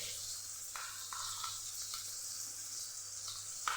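A spoon stirs yogurt mixed with red chilli powder, coriander-cumin and turmeric in a pan over low sizzling, a few soft scraping strokes and clicks over steady frying hiss.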